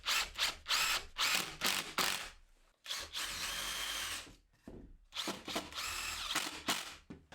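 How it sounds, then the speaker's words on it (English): Power drill driving screws to join four wooden frame pieces for a workbench: repeated close, loud whirring bursts of varying length with short pauses between, one longer sustained run in the middle, no talk. "I'm just going to get these 4 bits screwed together"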